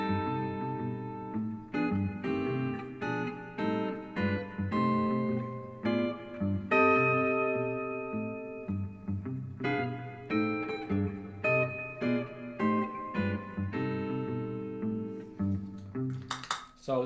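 Guitar chords played with the Barry Harris approach, alternating minor sixth and diminished voicings in a steady series of struck, ringing chords, close and clear.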